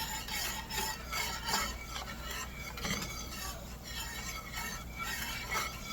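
A spoon stirs thickening gravy in a pan for fried liver and potatoes, giving a steady, close scraping and rubbing with soft bubbling underneath, continuous throughout.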